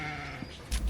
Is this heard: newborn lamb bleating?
yes